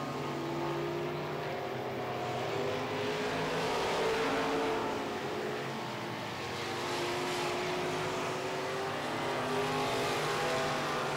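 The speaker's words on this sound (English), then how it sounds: "3 laps to go as he's going around the dirt oval." Midwest modified race cars circle a dirt oval track late in a heat, engines droning and rising and falling steadily as the pack passes, loud and continuous throughout.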